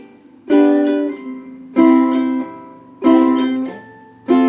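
Reggae-style strumming on a ukulele, playing chords for a song: four bright strummed bursts, each a sharp downstroke ringing out before the next, close and clear with no voice over them.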